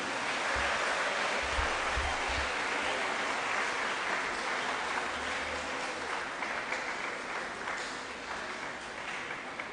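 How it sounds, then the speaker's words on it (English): Applause from the audience welcoming a guest at the official launch of a school's 25th anniversary celebration, a continuous broad wash of clapping that holds steady and fades slightly toward the end. "With a round of applause, let's welcome her."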